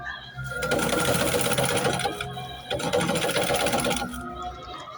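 An old sewing machine runs in two fast, loud stitching bursts, with a steady mechanical whirring and rapid clatter and a brief pause between runs.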